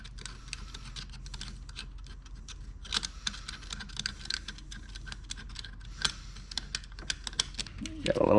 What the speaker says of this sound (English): I'm going to use this utility knife to scrape some of this corrosion off of here.